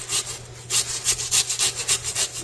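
A saw cuts through the chest of a pig carcass in about a dozen quick, rhythmic back-and-forth strokes, close and fairly quiet, with no voices.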